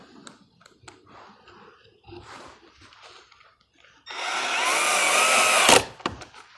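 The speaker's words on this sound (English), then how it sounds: "then I can drill the last hole where the clamp is right now" A power drill bores into wood in a garage while mounting a French cleat holder, running steadily for about two seconds loud and close, after quieter handling and clamp noises.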